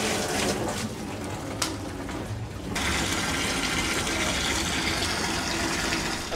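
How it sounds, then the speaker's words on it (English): Water pumped up from a sump fills an aquaponics fish tank, a steady broadband gushing and splashing that runs continuously, loud and close, brightening partway through with no talking. "it's time to fill it up with water and make sure it's all flowing correctly"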